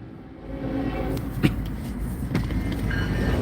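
A Norfolk Southern freight train rolls in, a steady low rumble with metallic clanks and squeals of cars passing nearby, continuous throughout.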